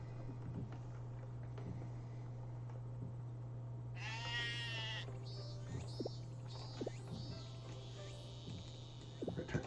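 Sheep bleat a few times in a Harvest Moon farming game, a brief cluster of cries over a steady low electronic hum, moderately loud and without talk.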